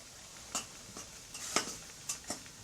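Kofta being stirred in tomato sauce in a cooking pot, with a few sharp scraping clinks of a utensil against the pot spread through a quiet kitchen.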